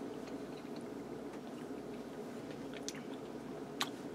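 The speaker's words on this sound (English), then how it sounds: "Excuse me while I chew." Close, quiet chewing of tender roasted sheet pan vegetables, with soft squishy mouth sounds and a couple of faint clicks over a low steady background hum.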